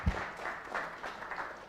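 Audience applause at a public speaking boot camp session, a soft, steady wash of clapping from a small room that holds at an even level for a couple of seconds.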